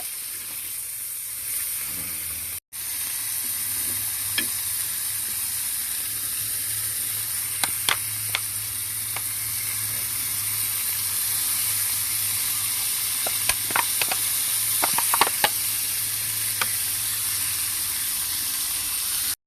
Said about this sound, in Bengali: মা মাছগুলো তাওয়াতে দিয়ে দিয়েছে, নাড়াচাড়া করে নিচ্ছে